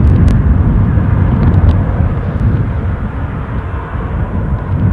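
An Embraer airliner departing Newcastle International airport, a loud low rumbling roar close by that stays strong and steady for several seconds with no voices.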